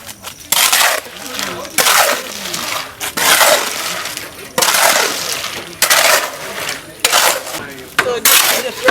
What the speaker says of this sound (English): So this is the process of mixing concrete.